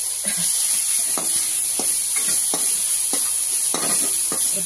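Ginger garlic paste frying in hot oil, a constant close hiss with rhythmic scrapes of a spoon stirring against the pan, and no talking.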